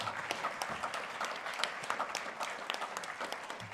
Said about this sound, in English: round of applause, and we stand as he comes up.